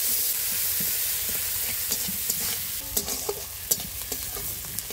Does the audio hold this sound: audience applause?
no